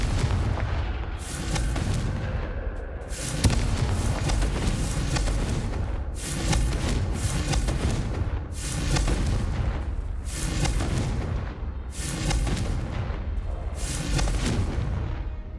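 Repeated Confringo fire spell blasts in Hogwarts Legacy gameplay, a rapid run of loud booming explosions bursting every second or two over a dense, rumbling game soundscape.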